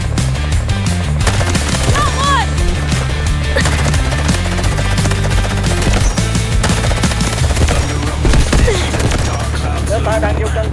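Rapid, continuous SG552 assault rifle fire in a video game, a dense rattle of shots that runs without pause under game sounds.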